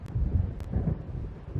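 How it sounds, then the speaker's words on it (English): Low rolling thunder from an approaching storm in Alan Wake, a deep continuous rumble with a couple of sharp crackling bursts, fairly loud and alone without talk. "It seems there's a storm coming."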